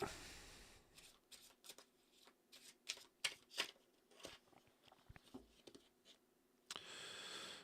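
A deck of cards is shuffled by hand, a quiet series of crisp riffling snaps and flutters that comes in irregular bursts, near and alone with no talking.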